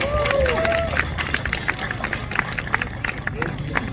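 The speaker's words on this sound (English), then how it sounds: "Please give them all a big round of applause" Crowd applause for new tenants at a shopping centre grand opening, a lively mix of scattered hand claps and crowd murmur with voices chattering underneath, and a brief whistle-like tone at the start.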